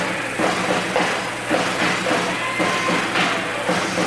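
Standing home fans in a high school basketball gym keep up a continuous roar during team introductions, with rolling surges in volume every second or so and no clear voices.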